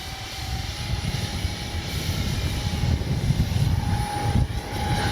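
An X-Fly twin 40mm electric ducted-fan F-22 Raptor RC model jet flies in strong wind, a continuous whining fan drone with a steady high tone over gusty wind rumble, with no talk.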